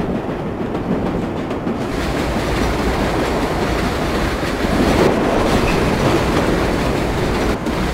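A New York subway train in the World of Subways 4 game runs at speed, a loud continuous roar of wheels and motors with rumbling clatter and no voices.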